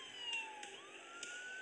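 An ambulance siren in a superhero rescue video game wails steadily in a continuous rising and falling tone, faint and somewhat distant, with no talk over it.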